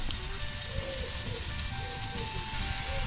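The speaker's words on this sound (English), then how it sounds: "it all starts with frying the bacon to crispiness" Bacon fries in a Dutch oven over an open fire, giving a steady, close crackling sizzle with small pops throughout and no talking.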